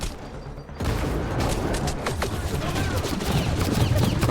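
Firefight in Mass Effect Andromeda: after a brief quieter moment, a sudden onset of rapid overlapping gunshots and weapon bursts, steady and fairly loud, with faint speech mixed in.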